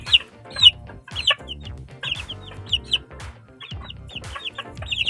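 Young chicks clucking close by while feeding, repeated short clucks and chirpy calls in an uneven rhythm, with no talking.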